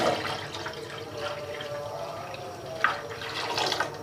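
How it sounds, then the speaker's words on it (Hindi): Water poured into semolina halwa in a cooking pan gives a steady, moderately loud splashing wash with brief bursts of bubbling, heard close and without talk. "बाकी का पानी मैं और डाल रही हूँ।"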